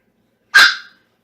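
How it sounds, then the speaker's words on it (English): A dog gives a single sharp, loud bark, close by, followed by silence. "my dog's barking a lot"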